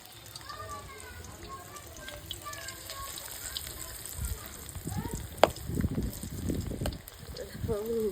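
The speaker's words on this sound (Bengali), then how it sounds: "যেহেতু মাছের তেল আছে তো মাছের তেলটা একটু ফাটবে" Fritters made with fish oil fry in hot oil. Someone talks over a soft sizzle, and then a denser burst of popping and crackling rises in the middle of the clip before settling back down.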